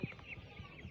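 Farm chickens, large birds about three weeks old, cluck in short soft bursts a few times under steady faint background noise.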